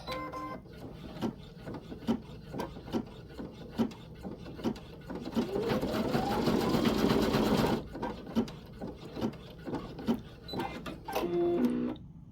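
Baby Lock Flare embroidery machine stitching a tack-down on an in-the-hoop project, a rapid rhythmic clatter of needle strikes that swells into a dense, louder whir midway before settling back to steady ticking.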